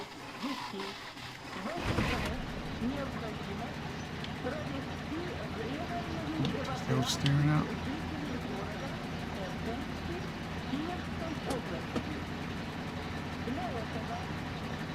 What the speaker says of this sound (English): hold Y to start the engine